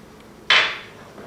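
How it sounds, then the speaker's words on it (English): Sugar poured into a bowl of struffoli dough mixture with vanilla: one quick, close, bright granular rush that fades within about half a second. "Now the sugar goes in."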